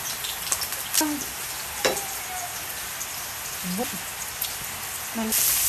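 Crushed garlic frying in a pan for fried rice gives a steady bright sizzle throughout, with a few clinks of a utensil against the pan and some talk over it.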